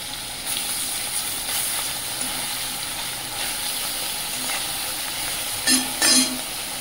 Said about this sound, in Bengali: মাছগুলো সুন্দর করে ভেজে নিয়েছি